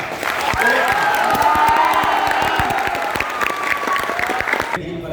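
Large student audience at a motivational talk breaks into loud, sustained clapping mixed with cheers and whoops, dense and continuous until an abrupt cut at the end.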